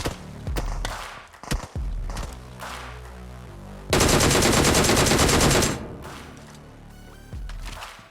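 Automatic rifle fire in the mobile shooter PUBG Mobile comes in loud, sustained bursts, with one dense stretch of rapid shots lasting about two seconds in the middle, plus shorter thuds and bursts before and after.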